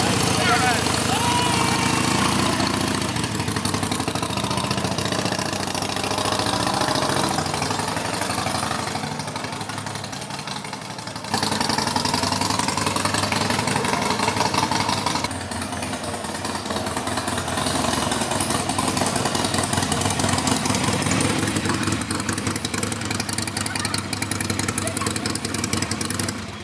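A Harley motorcycle engine idles with a steady, rough rumble for the whole stretch, loud and close, with people talking over it.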